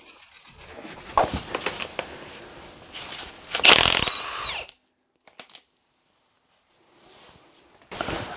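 A ratchet fitted with a 13mm socket is used to remove a pulley on a Renault Trafic F9Q engine during a timing belt change. Close, loud bursts of clicking and mechanical whirring are followed by near silence, then a final short burst.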